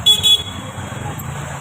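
Car horns blare twice in quick succession amid a traffic jam on a potholed Pune road, followed by a steady low rumble of idling traffic.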